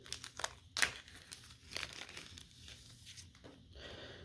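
Paper rustling and crinkling as old World War II-era memorial death cards are handled during a militaria unboxing: a sharp crackle near the start, then soft, intermittent shuffles close by.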